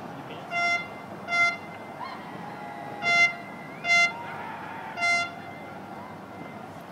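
Car horns honk in five short, loud blasts spaced irregularly through a New Year's Eve night crowd scene in Dubai, with a steady hum of outdoor ambience in between.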